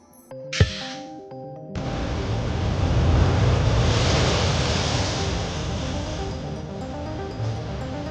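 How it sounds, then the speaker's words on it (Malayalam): Strong sea surge pounding the coast in Kollam and Alappuzha, a loud sustained roar of waves that swells and holds after a brief clattering opening, with no speech. "കൊല്ലം, ആലപ്പുഴ ജില്ലകളിൽ ശക്തമായ കടൽ കയറ്റം"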